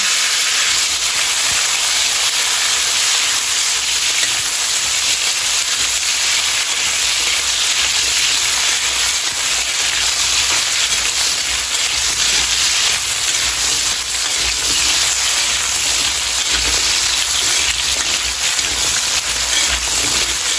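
A loud, steady sizzle fills the whole stretch as potatoes sauté hard in an oiled pan, continuous hiss with no voices.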